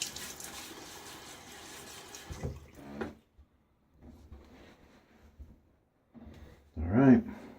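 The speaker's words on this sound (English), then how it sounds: "And now is when I will put a second layer of water on my face." Water splashes and drips close by as it is scooped onto the face during a wet shave with a Gillette Sheraton razor, in a few short bursts separated by quiet gaps, ending in a louder splash.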